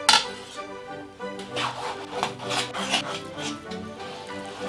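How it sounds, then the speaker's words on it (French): A knife draws through beef shoulder (macreuse) on a cutting board in steady, repeated close strokes, a rasping scrape with rhythmic slicing pulses and faint clinks, without talk. "viande sur la planche, viande rouge, couteau rouge, on va faire des tranches assez minces"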